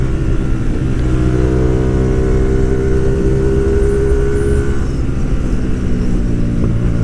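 A Hyosung GTR250R motorcycle engine revving hard and steadily, loud and close, its droning note rising slightly midway, with no voices.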